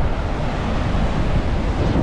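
Strong sea waves off the coast of Oman during a fishing trip, a loud, unbroken roar of surf mixed with heavy wind buffeting the microphone, close and constant with no voices.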